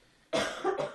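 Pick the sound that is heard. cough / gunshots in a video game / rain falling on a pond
cough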